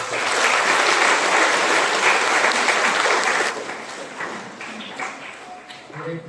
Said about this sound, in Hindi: हम उनका विशेष हार्दिक स्वागत करते हैं। ताली बजाते हैं।